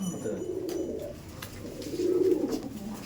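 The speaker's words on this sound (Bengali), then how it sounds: "এই যে পায়রাগুলো সব ছোট বাচ্চা" Young racing pigeons coo softly nearby in low, rolling throaty phrases, two swells of cooing close together.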